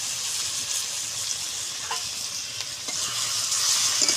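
Steady, loud sizzling of live koi fish frying in hot oil in a wok, a continuous crackling hiss with occasional stirring scrapes.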